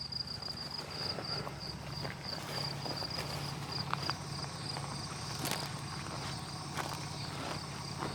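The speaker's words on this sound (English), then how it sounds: "A lot of grasshoppers around here." Faint grasshopper chirping buzzes steadily outdoors beside an old horse trailer, with soft footsteps crunching on ground nearby and a low background hum.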